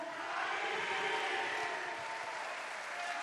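A large crowd at a Lega Nord party rally in the Pala Geox arena in Padova applauds and cheers in a dense, steady roar that fills the hall evenly without a break.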